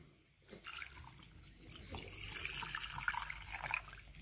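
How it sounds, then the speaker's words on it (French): Water is poured with saffron into a tanjia pot of layered meat, a steady splashing pour that starts abruptly and runs close and fairly loud to the end. "Vu que j'avais un petit complément d'eau, je le renverse un peu avec le safran de cette manière-là"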